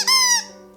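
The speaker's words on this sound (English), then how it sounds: "So I got this little squeaky ball." A small squeaky dog toy ball gives one short, shrill squeak up close, loud at first and then fading into a lingering tonal hum.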